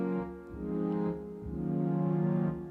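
A buzzy synthesizer preset playing its raw waveform with the filter turned off, a few sustained bass-heavy notes, raw and harmonically rich, fairly quiet with no voices.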